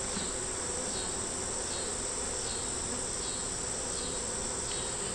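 Honey bees hum in a steady, dense drone around an open hive, a continuous close buzz with faint rising and falling swells and no talk.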